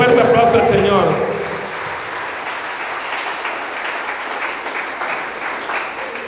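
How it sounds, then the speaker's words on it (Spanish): A church congregation claps loudly and together, the applause dense at first, then easing into a lighter, steady patter. A voice cuts in briefly over the opening. "Denle un fuerte aplauso al Señor."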